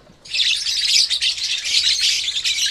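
Baby lovebirds chirping in a dense, continuous burst of high, rapid tweets, close and loud, with no voices over them.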